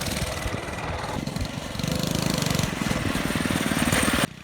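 A small kids' minibike engine runs during a test ride, a steady, loud putter that climbs slightly in pitch and intensity before cutting off abruptly near the end.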